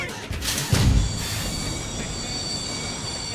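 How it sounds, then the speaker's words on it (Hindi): A passenger train pulls away from a station, with a brief heavy rumble and clank followed by a steady roar and high, sustained wheel squeal on the rails. "ओए ट्रेन चल पड़ी।"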